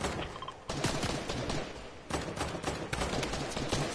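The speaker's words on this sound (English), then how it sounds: "I keep hearing gunfire." Gunfire in the video game Fortnite comes as dense bursts of rapid shots, a loud, sustained crackling barrage with brief lulls and no talk.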